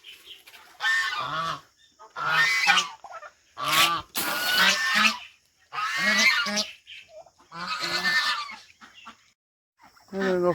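Farmyard ducks and chickens call in a series of loud, close, nasal honking bursts separated by short gaps.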